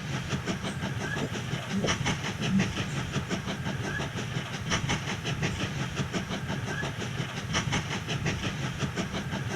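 A train runs through the Mashinky video game, with a steady rumbling hiss and rhythmic clickety-clack of wheels continuing at moderate volume for about ten seconds, and no one talking.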